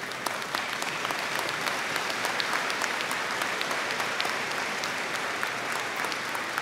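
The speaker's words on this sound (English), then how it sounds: "Let's have a round of applause for this community of learning." Steady, dense applause from a large audience at a fall undergraduate graduation ceremony, sustained without a break and with no talk over it.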